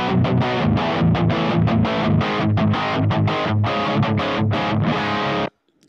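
Heavily distorted electric guitar playing chunky, rhythmic chords at a loud, steady level, then cutting off abruptly to near silence at the end.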